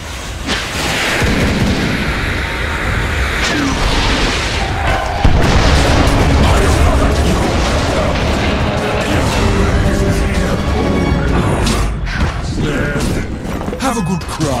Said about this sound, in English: Dire's top tower is under attack